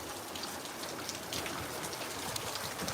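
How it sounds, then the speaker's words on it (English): Steady rain falls at night during a storm, a dense, even hiss of drops spattering on surfaces, continuous and moderately close with no voices. "I'm enjoying this rain."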